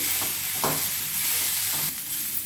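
Jowar flour dumplings steam and cook in a pan, giving a steady sizzling hiss with a few soft stirring scrapes, close and even, with no voices.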